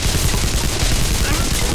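Gunshots in the video game Global Ops Commando Libya, a brief loud stretch of dense, overlapping firing that fills the whole moment with harsh noise.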